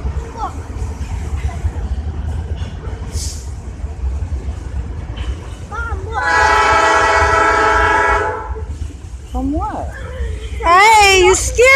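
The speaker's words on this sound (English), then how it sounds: "Here comes a train." A train rolls by with a loud, sustained horn blast in the middle, followed by short horn toots, under steady rumbling and occasional nearby voices.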